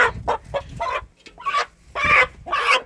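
Several young roosters cluck in short, choppy bursts close by, with a brief pause in the middle.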